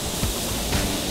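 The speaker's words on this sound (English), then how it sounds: "Next to the waterfall." A canyon waterfall during a canyoning tour in Baños, Ecuador, roars as a dense, steady rush of falling water, loud and close, with no other sounds standing out.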